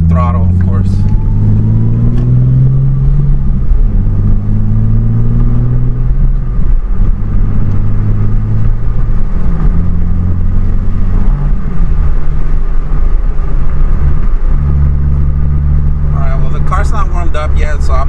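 Nissan 370Z fitted with an ISR Y-pipe and single exit exhaust, still cold, rumbling at low idle with a few mild revs rising and falling, loud and close, with someone talking over it.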